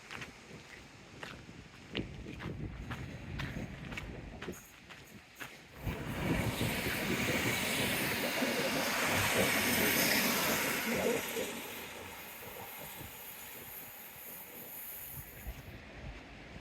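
A train passes along Brunel's seawall at Teignmouth Beach, a broad rumbling roar that builds, holds loud for several seconds and fades, after some nearby tapping and rustles, with a little talk at times.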